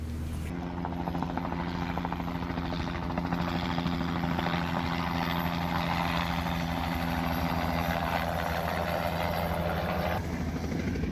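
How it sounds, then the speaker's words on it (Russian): Engine of a Super Dimona light motor glider drones continuously in flight at an air show in Moosburg, a loud, steady low hum with a throbbing propeller beat heard from inside the cabin. "полетав на самолете Супер Димона"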